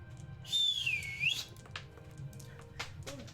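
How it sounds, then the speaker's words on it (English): A person whistles one clear sliding note that dips and rises, followed by a few short chirpy whistles, close by. "whistling with his mouth"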